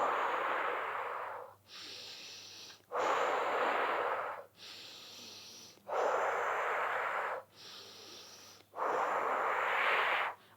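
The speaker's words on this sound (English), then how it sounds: "Inhale throughout your nose and exhale throughout your mouth or throughout your lips" Deep, drawn-out breaths during face yoga practice: four long, steady airy breaths of about two seconds each, separated by short pauses, close and fairly loud with no talking.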